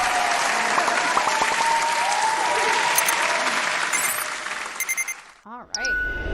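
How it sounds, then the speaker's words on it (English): An audience claps steadily for a livestreamed Hamilton song request show, the dense applause filling most of the clip before fading out, followed by a brief musical sweep. "Prepare for one more round of applause."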